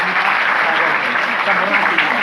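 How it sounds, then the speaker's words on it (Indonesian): Loud, dense applause from a large audience at a Bupati of Sampang community gathering during Pekan Ngaji 6, sustained and even throughout with a faint murmur of voices underneath. "tepuk tangan untuk beliau"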